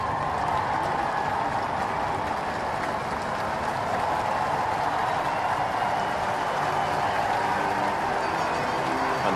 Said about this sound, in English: 3 cheers from the crowd.